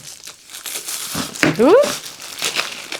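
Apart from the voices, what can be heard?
cellophane wrapping being removed from diamond painting kit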